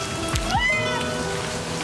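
A cat meows once in the game Livber Smoke and Mirrors, a short rising-and-falling cry heard close by over a steady patter of rain.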